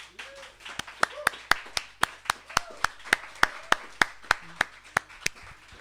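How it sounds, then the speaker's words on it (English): Steady, sharp hand claps ring out at a live show in Leeds, about twenty evenly spaced beats over a quiet background. "So can I have a big, huge round of applause for Nina and John."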